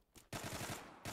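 Automatic rifle fire in the online shooter Zula: a short burst, a pause, then a sustained rapid stream of shots and a final burst starting again, close and loud with no talk.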